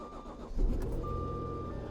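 A Jaguar car engine starting from ice cold, a short crank followed by the engine catching and settling into a steady idle with a whining tone, close by.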